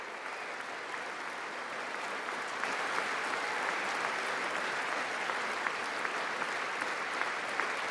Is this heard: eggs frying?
no